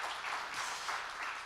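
At a church ministry fair, a congregation breaks into a short, even burst of applause, a soft wash of many hands clapping with no voices on top.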